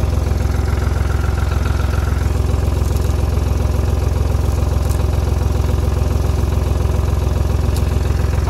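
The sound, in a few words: Tümosan tractor engine running in forest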